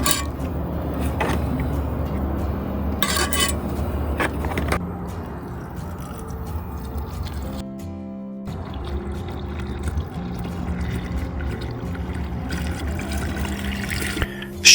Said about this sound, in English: fill a clear jar halfway with soil, then fill it to the top with water